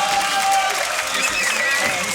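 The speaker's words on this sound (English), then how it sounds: "round of applause for everybody" Applause and crowd noise at a beatbox tag-team battle semifinal, a steady dense wash of clapping throughout, with voices and crowd chatter mixed in.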